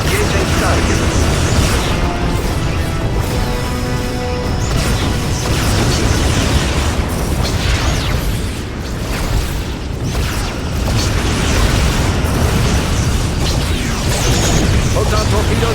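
A Borg cube blows apart in the video game Star Trek Legacy, a sustained, dense roar of explosions and rumbling booms that fills the whole stretch loudly and without pause.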